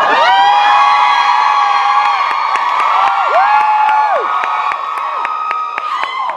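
Convention crowd at a fan con panel in Denver yelling and cheering loudly. Sustained high-pitched screams and whoops from many people run throughout, with scattered claps and rising shrieks.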